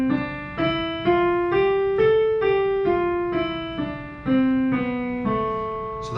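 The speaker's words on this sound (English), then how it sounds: "that's our natural minor." A piano steps up and back down an A natural minor scale with no sharps or flats, single notes sounding evenly at a moderate tempo, clear and close with no talking.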